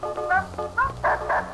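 A pet dog in The Sims video game gives about four short, clipped barks and yips in an uneven rhythm, close and clear, with no talking.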